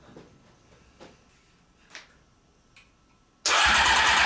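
A Honda CBR600 motorcycle engine fires up abruptly after a few faint clicks and ticks, then runs loud and steady, close by.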